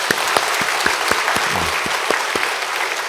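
A church congregation at a revival meeting for the church's 45th anniversary claps loudly together in full, continuous applause that fills the hall evenly for the whole stretch.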